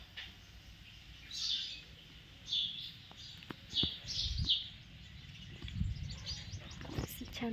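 Several short, high bird chirps come at intervals over a quiet background with occasional low thumps.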